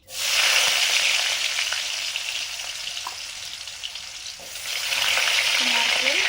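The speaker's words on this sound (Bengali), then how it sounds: "প্রথমে নারকেল দিলাম নারকেলটা একটু ভাজা হলে" Loud, continuous sizzling of coconut frying in hot ghee, with occasional stirring scrapes and a brief dip before the hiss swells again.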